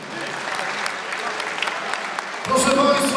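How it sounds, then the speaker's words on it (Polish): Audience applause at a boxing gala, steady clapping filling a large hall for about two and a half seconds before swelling louder and denser at the end. "No i proszę Państwa, największe brawa dla naszej fantastycznej i nieobliczonej,"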